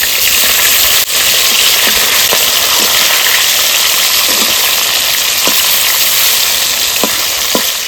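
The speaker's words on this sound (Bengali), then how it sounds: "মাছগুলো ভেজে নেবো, সর্ষের তেল" Fish frying in mustard oil in a hot kadai, a loud, dense, continuous sizzle close up with a few faint clicks from the pan, no voices.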